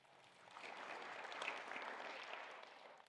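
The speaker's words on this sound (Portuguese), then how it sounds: "deem uma grande salva de palmas para ela" Faint applause from a small audience at a talk, swelling briefly and then easing off, distant and soft throughout.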